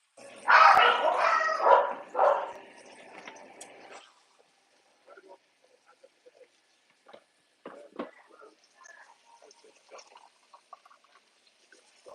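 A dog barks indoors at home during a family cooking session: a burst of several loud, close barks, then quieter scattered noises.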